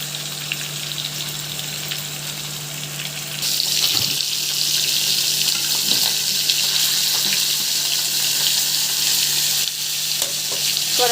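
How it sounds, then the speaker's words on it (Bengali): Rohu fish pieces fry in a small wok for a village-style rohu bhuna, a continuous loud sizzle that swells and intensifies partway through, with occasional stirring clinks. "কিছু মাছ এখানে ভেজে রাখছি"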